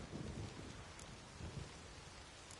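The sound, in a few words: storm with rain and thunder in The Witcher 3 video game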